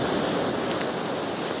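Sea waves washing onto a beach at Anapa, a steady broad rushing surf with some wind noise, continuous and fairly loud, no voices.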